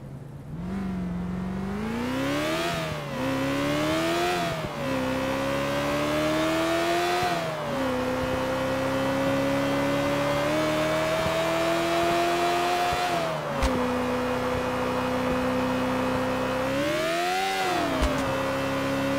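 Bullet GT sports car engine in GTA: The Ballad of Gay Tony, a loud continuous drone rising through gears with repeated shifts and revs, steady and close with no talk.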